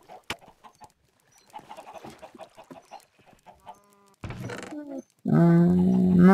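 Minecraft chickens clucking in scattered short calls, then louder, sustained game sounds take over toward the end; no speech is heard.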